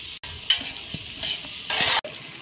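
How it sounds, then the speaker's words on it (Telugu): Tomatoes hit hot oil in a pan and sizzle loudly, with steady stirring scrapes and a couple of brief pauses in the bright, hissing frying noise. "టమాటాలు వేసుకుంటున్నారు ఫ్రెండ్స్"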